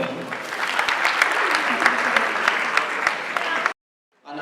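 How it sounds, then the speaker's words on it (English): An audience at a university public lecture in Nigeria gives sustained clapping, dense and moderately loud, which stops abruptly before a voice begins. "It's a round of applause for each and one of them."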